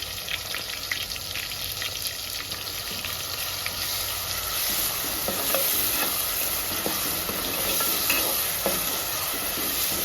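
Ground onion paste and green chillies fry in a pan for a small fish curry, producing a steady close sizzle and hiss with scattered crackles and stirring scrapes. No one speaks.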